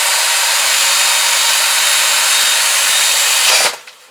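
A power tool grinds and cleans carbon off the top of a Kawasaki GPZ500S piston: a loud, steady, close whirring abrasion runs continuously, then cuts off abruptly near the end.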